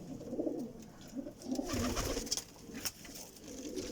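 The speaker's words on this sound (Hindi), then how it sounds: "टेडी कबूतर बैठे है जी।" Teddy breed pigeons coo in a breeder setup, their soft repeated low calls overlapping at close range among rustling and faint background noise.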